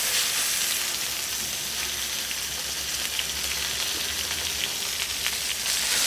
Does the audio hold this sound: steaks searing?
yes